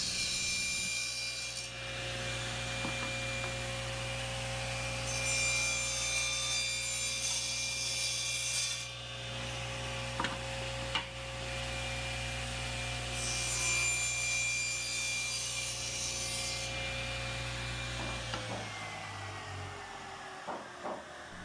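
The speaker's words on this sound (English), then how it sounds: "So I'm trimming these down at this point." Steady, continuous sawing as wooden inserts are trimmed down flush, a close rasping rhythm that runs without a break for about twenty seconds.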